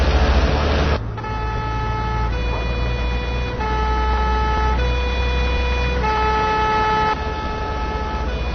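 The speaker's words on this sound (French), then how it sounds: "Dans cette situation, ce camion de pompiers va porter secours." A fire engine siren sounds loud and continuous over steady traffic noise, its wailing tones rising and falling in repeated cycles, heard in a road situation where a fire truck is coming through to give help.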